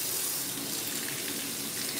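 Water runs steadily from a tap into a sink, a close, even, continuous hiss with no talking over it.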